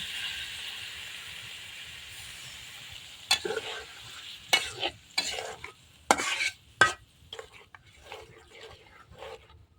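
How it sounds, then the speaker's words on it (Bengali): Pangas fish sautés with spices in a pan, with a quiet low sizzle first and then a series of separate spatula scrapes and stirs, each one bringing a short burst of crackling. "মাছটাকে ভালোভাবে কষিয়ে নিতে হবে মশলার সাথে।"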